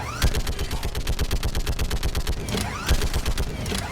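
A mounted gun fires in the Mass Effect 3 video game, rapid loud repeated shots in a steady stream, with a few brief pauses in the burst.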